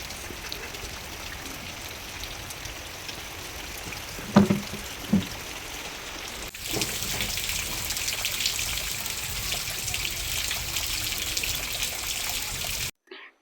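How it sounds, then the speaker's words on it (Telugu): Steady rain falling outdoors, a continuous hiss that grows fuller and denser partway through, with a few faint knocks early on. "ఇప్పుడే వర్షం అయితే కొంచెం తగ్గింది"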